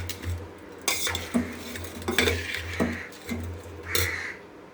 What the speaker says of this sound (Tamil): எல்லாத்தையும் சேர்த்து இப்படி கிளறிடணுங்க